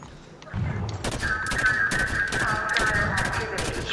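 Automatic weapon fire in the Halo 5: Guardians co-op campaign, mission Evacuation, arrives as loud rapid bursts that repeat over a few seconds, with game sounds beneath.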